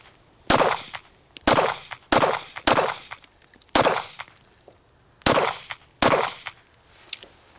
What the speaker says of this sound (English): you just saw some footage of the CCP being shot